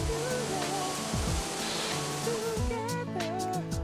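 A park waterfall in northeastern Japan pours steadily without pause, a broad wash of noise with soft melodic music playing over it.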